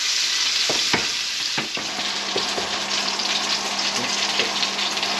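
A fish fillet pan-frying with a steady, close hiss of sizzling oil over the whole stretch, broken by a few sharp clinks and scrapes from a utensil in the pan.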